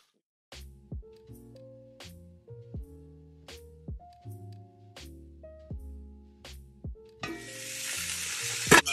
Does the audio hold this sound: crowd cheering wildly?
no